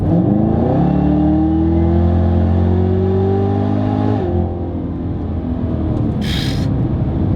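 A 2019 Chevrolet Camaro ZL1 with a 10-speed automatic accelerates hard, its loud engine roar rising steadily in pitch through the gear, then dropping abruptly at a shift before pulling again, heard up close with no talking.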